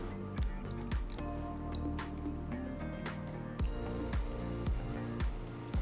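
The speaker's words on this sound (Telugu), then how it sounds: "ఇప్పుడు నేను దీంట్లో 1 కప్ అంతా నీళ్ళు పోస్తున్నాను" Water poured into a pan of cooked masala for a prawn and gongura gravy, a wet, bubbling pour with repeated drips and splashes close up, no talking.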